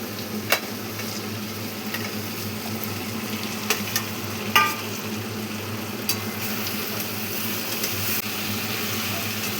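Young jackfruit frying in hot oil with spices, a steady close sizzle running throughout with occasional light taps and scrapes of a spoon in the pan, no talking.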